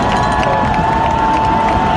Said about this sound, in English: The Huskies bench is getting the crowd riled up.